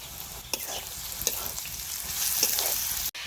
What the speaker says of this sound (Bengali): সবকিছু খুব ভালোভাবে ভেজে নিয়েছি